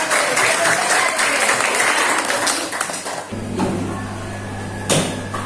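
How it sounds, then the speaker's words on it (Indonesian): A class of students applauds during a teaching practice lesson, brisk clapping for about three seconds that gives way to a low hum, scattered knocks and a sharp tap. "tepuk tangan untuk Gusti ya"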